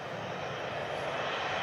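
A steady, broadband roar from an Airbus A320neo-type airliner's engines at Manchester Airport, heard at a moderate distance with no voices.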